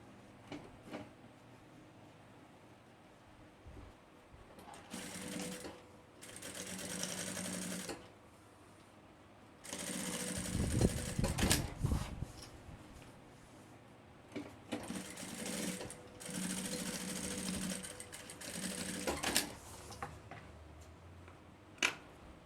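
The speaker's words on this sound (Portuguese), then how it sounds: "E aí eu boto ele aqui em cima e costuro. Faço essa costura." A sewing machine stitches bias binding onto a backpack, running in several bursts of rapid mechanical whirring separated by quiet pauses, close by, with a soft click at the very end.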